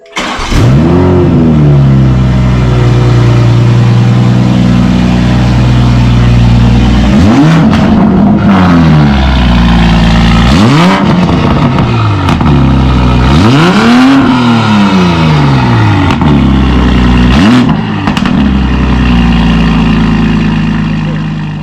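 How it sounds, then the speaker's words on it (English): A Toyota Mk5 Supra fitted with a Titan Motorsports downpipe, loud and close, holds a steady drone and then rises in repeated sharp revs that fall back between the blips, with no talking. "that was the downpipe Supra"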